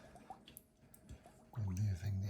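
Siemens EQ700 water filter squeezed underwater to push out air bubbles, giving faint, close gurgling bubbles that swell into a louder, steady gurgle in the second half.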